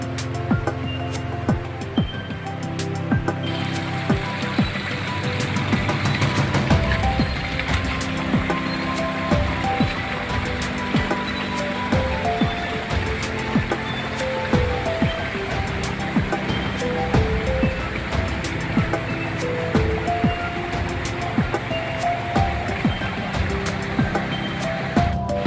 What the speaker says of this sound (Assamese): চাপানালা জলপ্ৰপাতটো উত্তৰ পূব দিশত থকা কাৰ্বি আংলং পাহাৰৰ পৰা এই জলপ্ৰপাতটি বৈ আহিছে